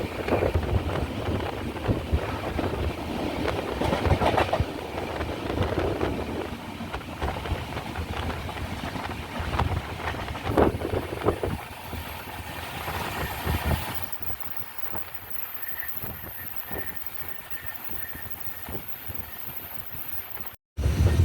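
Aboard the Island Express pulling into platform 2 at Paravur station in Kerala, a continuous low rumble and rushing wind fill the carriage and ease off to a quieter hum as the train slows.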